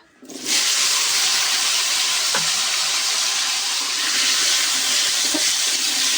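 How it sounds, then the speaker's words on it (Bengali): Okra and potato pieces sizzle in hot oil in a pan, a steady loud hissing fry that erupts suddenly and holds continuously, with a couple of faint clinks underneath. "এবার এখানে আমি ভেন্ডিটা ভেজে নেব, ভেন্ডি আর আলুটা ভেজে নেব"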